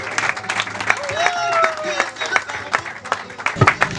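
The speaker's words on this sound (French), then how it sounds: "chers amis, qu'on applaudisse encore pour Cyril Bianzé." Applause from an audience at a French talk, a scattered run of claps with a faint murmur and a whistle-like tone under it, moderately loud throughout.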